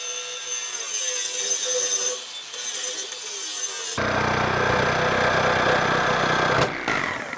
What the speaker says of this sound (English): Let's cut this back box off